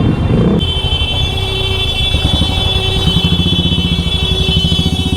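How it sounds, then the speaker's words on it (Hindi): A Kawasaki Z900 motorcycle engine drones loudly and steadily while riding on steep mountain roads near Mussoorie, its pulsing tone shifting slightly as the throttle changes. "बाइक बजी यार इस पे ना"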